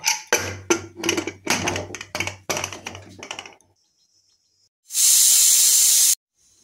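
A pressure cooker boiling khesari dal with salt and water lets out one loud, steady burst of hissing steam lasting about a second, following a stretch of rhythmic clatter and a quiet pause.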